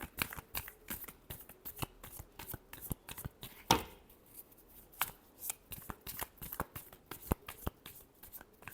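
Tarot cards being shuffled by hand, close by: a steady run of sharp, crisp riffles and slaps in uneven bursts, with one louder snap partway through and no talking.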